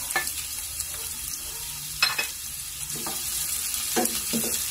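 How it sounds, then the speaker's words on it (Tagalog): Onion and garlic sauté in a hot pan, a soft steady sizzle with occasional stirring scrapes and clinks near the cook, no voices heard. "Bango talaga ng sibuyas at bawang pag ginigisagan."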